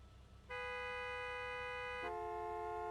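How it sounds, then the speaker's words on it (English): A loud, sustained car horn blares in Gas Station Simulator, holding steady for about a second and a half before shifting to a slightly different tone and continuing without a break. "The car honking is obnoxious but realistic."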